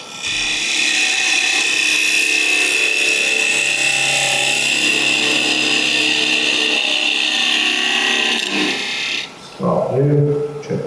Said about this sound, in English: I'll use square and scraper this time